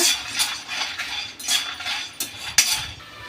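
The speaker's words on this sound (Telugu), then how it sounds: "ఇవి పల్లీలు ఆయిల్ వేయించకూడదండి ఇట్లనే ఫ్రై చేసుకోవాలా" Raw peanuts being dry-roasted in a pan without oil give off a close series of light rattling clinks and scrapes as they are stirred, with a few sharper knocks near the end and no talking.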